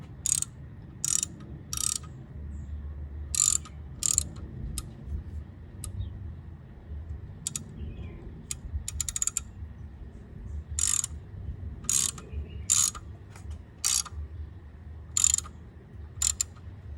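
A hand ratchet clicks in short bursts while turning a Helicoil thread-repair tool, extended with a vise grip, into stripped valve cover bolt holes on a Mini Cooper cylinder head. The sharp clicks are close, separated by pauses, over a low background hum.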